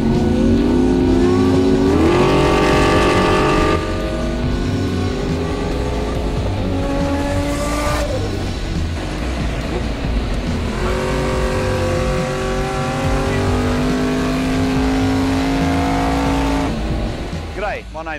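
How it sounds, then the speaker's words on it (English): A Nissan R32 GT-R is driven hard: its engine revs loud and close, rising through the gears with sharp shifts, while a brief tire squeal cuts in. "this car is ridiculously fast and well-engineered"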